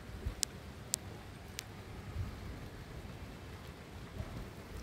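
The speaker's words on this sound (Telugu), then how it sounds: "చూడండి, వర్షం కూడా వస్తుంది." Rain falls on a rooftop terrace garden, a soft, steady patter heard from outdoors, with a few sharp, faint ticks of drops near the start.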